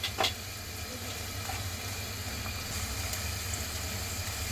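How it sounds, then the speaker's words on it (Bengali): Chopped onions fry softly in a pan, giving a faint, steady sizzling hiss throughout with a small clink near the start. "এবার পেঁয়াজটা একটু নরম করে ভেজে নেব।"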